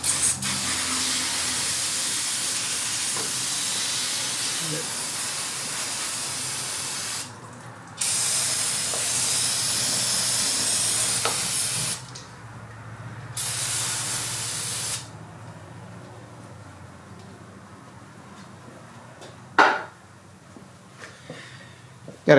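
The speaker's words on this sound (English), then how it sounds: "And then we got a little bit of the brake cleaner." An aerosol can of brake cleaner sprays in long hissing bursts during a Ford F-150 5.0 oil change, several steady blasts with short pauses, close and loud, then a few clicks and quiet shop noise.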